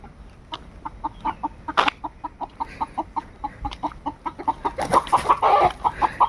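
Chickens on a farm in Konkan cluck in a steady run of short, repeated calls, growing busier and louder toward the end, with a brief louder squawk partway through.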